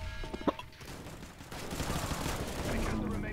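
Gunfire in the CS:GO video game: a sharp close shot near the start, then rattling bursts and noisy game action filling the rest of the moment.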